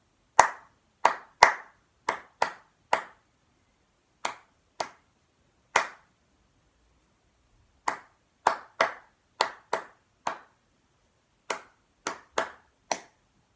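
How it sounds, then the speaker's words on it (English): Hands clap a simple counted rhythm, sharp close claps in short groups separated by pauses, with no other sound. "let's clap the first line"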